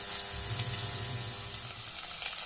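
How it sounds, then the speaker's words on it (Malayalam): Cauliflower curry sautéing in a pan, giving a steady, close sizzle and hiss that runs evenly through the whole stretch with no talking. "ഇത് നമുക്കൊന്ന് വഴറ്റിയെടുക്കാം"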